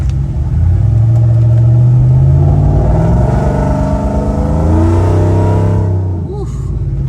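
A 2007 Chevrolet Avalanche with a supercharged LSA 6.0 V8 revs with a loud, deep rumble that swells and climbs in pitch, holds, then eases off toward the end, heard close up.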